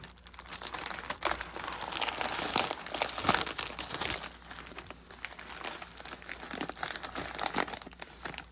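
A plastic bag is cut and torn open up close: bursts of crinkling and crackling rustle on and off for about eight seconds, with no voices.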